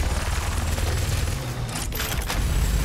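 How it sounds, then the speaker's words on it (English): Doom Eternal chain gun fire chatters in a dense, rapid stream over a low booming bed, loud and close, with a brief mechanical whir midway. "Let me go with chain gun."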